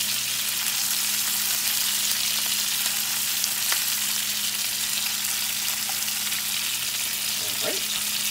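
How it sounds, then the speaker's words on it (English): Steaks frying in a pan with butter spooned over them give a steady, dense sizzle that runs without a break, joined by a low hum and a faint clink near the end. "We're going to take our spoon with the butter. We're just going to baste the steaks."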